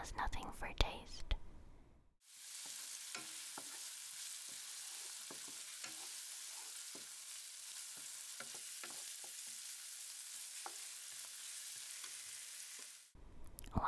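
Onion fries in a pan as achuete is stirred in for a Filipino caldereta: a steady, close hiss of sizzling runs throughout, broken by light scraping stir strokes, fairly quiet overall.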